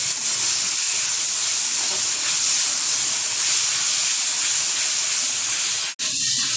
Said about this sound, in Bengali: দিয়ে দিচ্ছি সোয়া সস। ভালোভাবে মিশিয়ে নিচ্ছি।